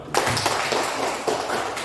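A classroom of students claps hands together, a brief burst of rapid, uneven clapping at close range, fairly loud.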